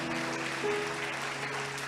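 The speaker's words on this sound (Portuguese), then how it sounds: "Aplaude Ele aqui em nome de Jesus, aplaude" A church congregation applauds during a worship service, brief steady clapping over a held organ or keyboard chord.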